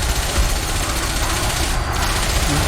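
Rapid, dense weapon fire from a ship battle in the space combat game Elite: Dangerous, a loud continuous burst of overlapping shots running steadily from start to end.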